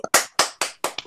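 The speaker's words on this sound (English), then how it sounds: "unmute and clap if you'd like to" Clapping from a participant on a video call, about four sharp, close claps at an even rhythm, each ringing out briefly before the next.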